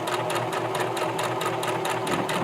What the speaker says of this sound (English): So I'm going to start to sew.